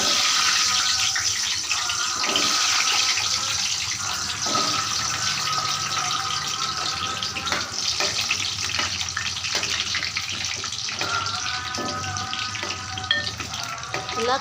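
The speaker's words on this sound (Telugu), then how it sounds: "ఇప్పుడు ఉసిరికాయలను అయితే ఆయిల్లో వేసుకొని వేంపుకుందాము." Amla gooseberries fry in hot oil, giving a steady, loud sizzle and crackle that runs throughout, with occasional stirring clinks and no talking.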